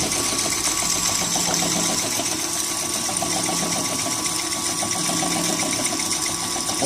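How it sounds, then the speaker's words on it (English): An auger conveyor on a vertical mixer and auger filler bagging line runs with a steady mechanical whir and a fast rhythmic ticking, continuous and close, with no talking. "So now the auger conveyor will automatically kick over."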